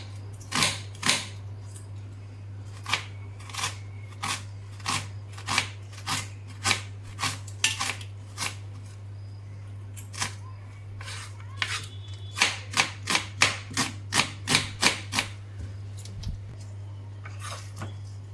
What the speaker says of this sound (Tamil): நான் ரெண்டு வெங்காயம் கட் பண்ணிக்கிறேன்